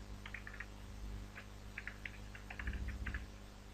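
Light, quick taps on a computer keyboard, a few scattered clicks and short bursts of keystrokes, close but quiet against a steady low hum.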